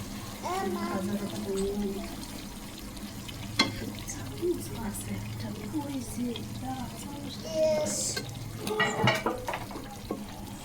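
Chicken being roasted in a pan is stirred and turned over a soft, steady sizzle, with scattered scrapes and clinks of a utensil and a louder clatter near the end, while a voice talks throughout.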